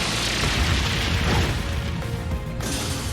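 The Brionac weapon in Trails of Cold Steel III fires with a heavy, booming blast that swells into a crashing explosion, followed by a sharp final burst near the end, loud and close.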